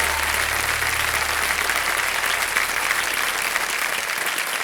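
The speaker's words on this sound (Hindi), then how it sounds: "एक बार फिर जोरदार तालियों के साथ" On a television quiz show set, a studio audience gives loud, sustained applause, dense and even from start to finish with no voices.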